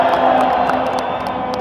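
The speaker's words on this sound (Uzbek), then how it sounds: "kutilganidek Husanov, Masharipov, Shomurodov va Fayzullayevga muxlislar alohida qarsaklar chalishdi" Football fans in a stadium at an Uzbekistan versus Kyrgyzstan match applauding and cheering the players, a loud, dense crowd roar with scattered claps and whoops throughout.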